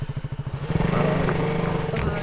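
A motorcycle engine putters in a rapid, even idle, then revs up and roars away nearby, with voices talking over it, in a scene from the Malayalam film Enkilum Chandrike.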